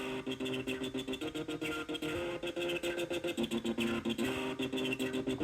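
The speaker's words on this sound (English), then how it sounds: "So we get all the distortion from we're basically making a polyphonic oscillator" A distorted, buzzy synthesizer run through a TD-3 303 filter chain plays a fast pulsing polyphonic sequence of filtered notes with a gritty, resonant tone, steady and loud with no voices.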